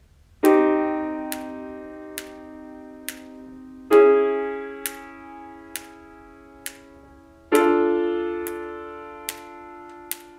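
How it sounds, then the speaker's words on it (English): Metronome ticking at 60 beats per minute, sharp regular clicks about once a second over ringing, strummed minor chords on a stringed instrument, close and clear with no talking. "I love working with the metronome because it really defines the kind of work you're doing."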